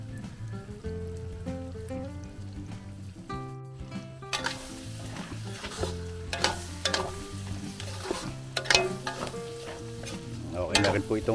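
A pot of fish stew with vinegar, made from tanigue, simmers and bubbles with crackling, sizzling pops that grow busier and louder over a background of steady tonal hum.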